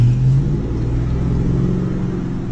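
Dodge car converted to run on injected hydrogen-oxygen (HHO) gas, driving around a block: a steady, close, low engine rumble with a brief higher hum at the start and no talking.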